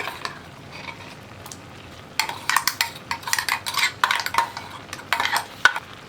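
Stirring ground paste into tomato pachadi curry in a pan: quiet at first, then a steady run of close, uneven wet scrapes and clinks of a spoon against metal.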